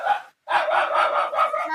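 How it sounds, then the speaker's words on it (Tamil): A real dog barks nearby behind a mobile racing game session, a loud continuous string of barks with one brief gap. "நாய் கத்திரி சவுண்டெல்லாம் கண்டுக்காதீங்க."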